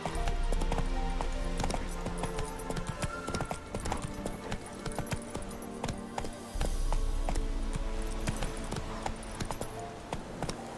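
Horse hooves clip-clop in a rapid galloping rhythm in The Witcher video game, loud and continuous with occasional game sounds layered over the hoofbeats.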